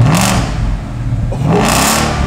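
A Ford Mustang fitted with a loud aftermarket cat-back, non-resonated exhaust revs twice, each burst rising and falling in a deep roar close by.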